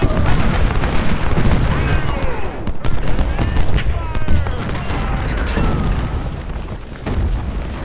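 Civil War artillery fires continuously at Fredericksburg in Ultimate General: Civil War, a dense barrage of overlapping cannon booms and rolling musket fusillades with no pause, loud and close.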